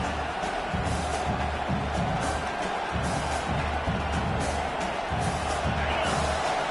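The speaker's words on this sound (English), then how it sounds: "Listen to this crowd just shaking the girders of this place, trying to help their defense" A stadium crowd at a college football game in the video game CFB 25 roars steadily, a dense, even wash of noise with faint rhythmic low thumps underneath.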